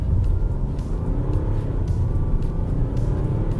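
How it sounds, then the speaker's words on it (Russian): A BMW X1 with a three-cylinder diesel and seven-speed dual-clutch robotic gearbox pulls away from standstill in sport mode, its engine droning and rumbling loudly with a steady rising tone from inside the cabin. "То есть вот так разгоняется машина с 3 цилиндрами."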